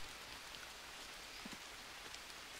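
Rain falls steadily in the jungle survival game Green Hell, a faint, even hiss with scattered soft drops and no voices.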